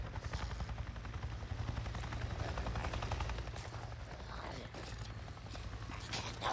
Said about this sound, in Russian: Я только что видел вертолет!